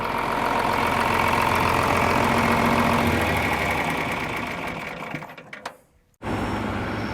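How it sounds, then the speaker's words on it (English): A tractor engine idles steadily during harvest, a rough low rumble that drops off and cuts out briefly before another engine sound resumes. "I'll just go shut off the tractor"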